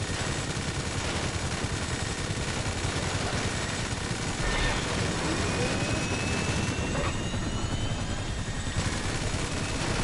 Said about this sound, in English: No, a chopper's coming in.